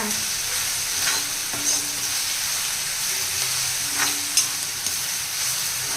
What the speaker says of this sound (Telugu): ఫ్లేమ్ మాత్రం బాగా తగ్గించేసి అంటే సిమ్ల మీద ఉంచి చేయాలండి ఫ్రై లేకపోతే అడుగంటేస్తుంది